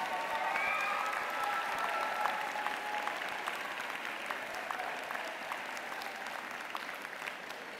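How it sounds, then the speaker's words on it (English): A large crowd at a university social work winter commencement ceremony claps in sustained, dense applause, with a few scattered cheers high above it, holding steady throughout. "give them a big round of applause"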